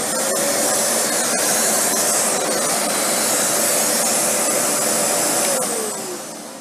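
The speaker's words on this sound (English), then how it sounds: "So when I turn the vacuum on, you cannot run this cleaner head." A Shark NV360 upright vacuum cleaner runs close by with a steady, loud motor whine and airflow roar, then winds down toward the end as the pitch drops.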